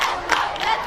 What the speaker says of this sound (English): Ladies College have begun a chant to cheer their team on as well